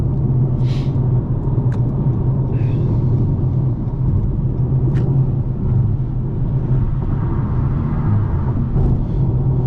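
A 2024 Toyota Camry LE rolls over broken, slightly curvy pavement, with steady loud low road rumble and tire noise running throughout and a few faint higher clicks and knocks from the cabin.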